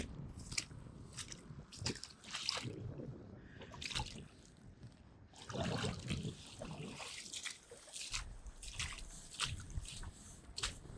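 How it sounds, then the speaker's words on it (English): Water trickles and squelches in a muddy horse stable, with wet sloshing, dripping and crunchy squishing steps in irregular bursts, quiet and close. "Here is even more water."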